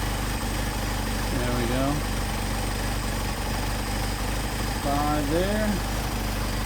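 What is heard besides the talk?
Mercedes 190SL engine idling on Solex 44PHH carburetors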